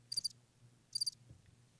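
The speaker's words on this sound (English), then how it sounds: "Where's my crickets? I need my crickets." Crickets chirping as a sound effect, two brief high trilling bursts about a second apart over a faint low hum, quiet and alone.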